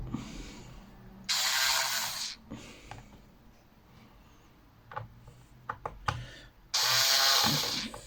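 Ratcheting whirs come from a screwdriver working on the back cover of a laptop while removing it to upgrade RAM. Two loud bursts bracket scattered clicks and taps of parts being handled up close.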